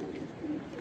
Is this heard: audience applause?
no